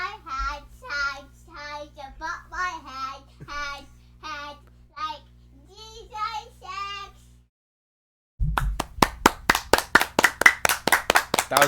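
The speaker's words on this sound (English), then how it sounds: "So the problem is he's not gonna stop clapping now." A child claps hands quickly and sharply in a fast, even run of claps near the microphone, after a stretch of a voice speaking.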